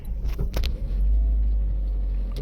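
A Volkswagen Golf 1 engine with a misfire and overheating problem idles with a low, heavy rumble that stays close and steady, after a few clanks and clicks at the start.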